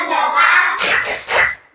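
A school class performing the 'tepuk fokus' focus clapping pattern: a short run of bright, close claps in a few quick groups, with children's voices mixed in.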